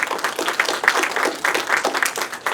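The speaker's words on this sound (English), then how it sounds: "So another big round of applause for the panel, please." A room full of people gives a panel a round of applause, lively uneven clapping close by that carries on steadily for a couple of seconds.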